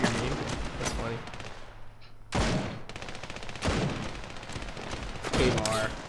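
Bursts of gunfire from the Standoff 2 shooter game, a few separate volleys spread across the moment, loud and close, with players chatting around them.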